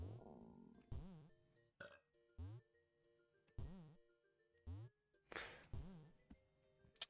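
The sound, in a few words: large belch in a weight gain video game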